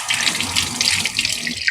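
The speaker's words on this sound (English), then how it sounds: "I didn't wash my cherries, so I'm gonna wash them." Running tap water pours over fresh cherries being washed in a sink, a loud, steady splashing stream heard alone and close.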